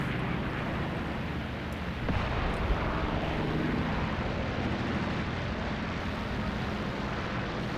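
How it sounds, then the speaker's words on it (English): Propeller aircraft drone overhead in the Graviteam Tactics Mius Front war game, a low, rumbling engine roar that swells slightly midway, with faint distant thuds. "I'm going to wait until the planes bugger off."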